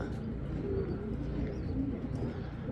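Rare Sina pigeons coo in low, soft rolling calls close by, with a continuous bed of background noise and a few faint chirps layered over it.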